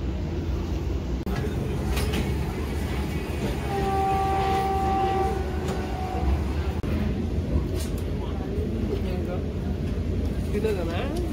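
A Vande Bharat express train runs with a continuous rumble and rattle heard from inside the carriage, with faint tonal hums and murmuring voices beneath.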